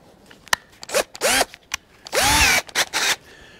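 Cordless power drill whirring in several short bursts of varying length, the motor revving up and spinning down between brief pauses, close and fairly loud with no talking.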